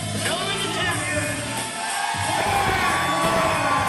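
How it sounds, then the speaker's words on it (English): A BCW wrestling crowd rises and cheers for the Pacific Northwest Television Champion, a dense, steady roar of shouts, whoops and yells filling the arena throughout, loud and continuous with a brief dip midway. "Let's take a moment to hear the BCW crowd as they get on their feet"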